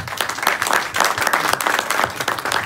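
An audience gives a round of applause for the Red Bull KTM Tech3 motorcycle racing team at an event: dense, continuous clapping from a sizeable crowd, loud and close.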